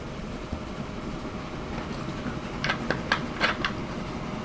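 Train approaching in the video game Transport Fever, a steady low rumble with faint rhythmic clicking and metallic squeals growing toward the end, heard alone at a moderate distance.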